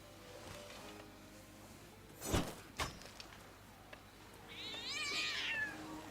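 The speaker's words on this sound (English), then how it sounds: "I hit my cat." A cat meows in the pirate sailing game Sea of Thieves, a rising and falling call near the end, after two sharp thuds, over steady low background noise.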